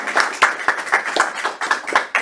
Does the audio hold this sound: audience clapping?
yes